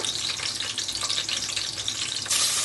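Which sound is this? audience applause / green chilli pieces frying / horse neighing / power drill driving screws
green chilli pieces frying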